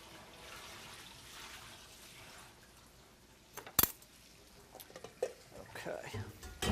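A pot of water is dumped into a kitchen sink: a sudden sharp clank and splash midway, then intermittent pouring, clattering and running water, with soft talk nearby.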